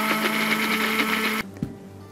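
A handheld blender mixes pottery glaze with a steady, close motor whir that runs evenly and then cuts off abruptly, followed by a brief knock in the quieter tail.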